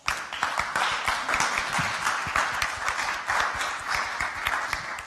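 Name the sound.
audience applause for Trina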